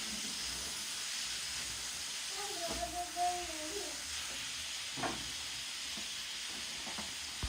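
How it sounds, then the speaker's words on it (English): Alexandrian liver with garlic sizzling and hissing steadily in a hot pan, a soft continuous fry with a brief tonal squeak of stirring partway through, no talking. "we cook this liver until it is well cooked"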